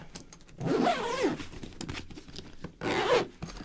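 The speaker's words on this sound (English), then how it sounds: "And that zips up on one side." The zipper on a MONO guitar gig case is pulled in two short, close rasping strokes with a pause between them.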